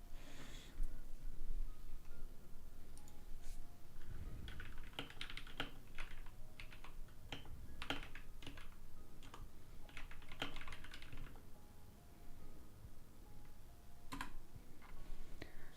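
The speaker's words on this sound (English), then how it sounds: "I'll type in chat really quick." Steady computer-keyboard typing on a close ASMR microphone, with bursts of crisp keystrokes clattering for several seconds, pausing briefly and then resuming, over a soft background.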